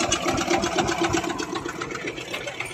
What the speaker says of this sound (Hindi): कैसा ट्रैक्टर स्टार्ट हो रहा है,